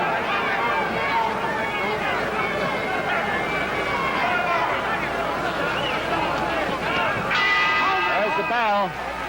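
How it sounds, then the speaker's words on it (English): A bell rings near the end of a round in a welterweight title boxing match, Griffith vs Paret, sounding briefly late on over a constant roar of crowd hubbub and chatter. "There's the bell."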